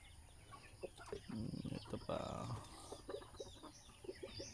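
Light Sussex hens cluck and murmur in a free-range pasture flock, a run of short, close, soft calls with a louder burst midway, amid outdoor farmyard ambience.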